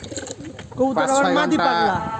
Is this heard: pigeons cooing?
yes